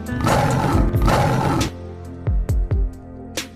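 A tiger roars while entering a pool in an animated fable, a loud, rough, growling bellow filling the first half, followed by several short splashing thumps and rumbles.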